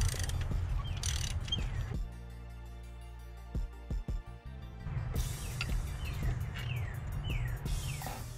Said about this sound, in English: Use a 15 millimeter socket and ratchet to remove the two lower bolts.